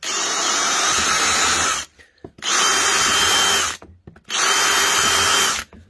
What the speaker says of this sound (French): L'avantage de ce système, c'est que ça permet de faire des trous à la chaîne.